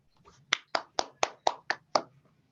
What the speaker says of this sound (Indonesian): Beri tepuk tangan juga untuk Mbak Dian.